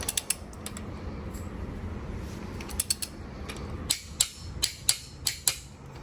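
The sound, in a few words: torque wrench tightening engine main cap bolts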